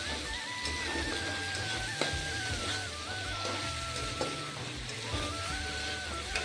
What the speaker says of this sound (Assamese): এইখিনি ভালদৰে ভাজি ল'ম তেল ওলোৱালৈকে